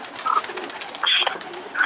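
A pigeon coos softly nearby in a few short, low murmuring phrases, while faint higher chirps and indoor background noise sit behind it; no one speaks.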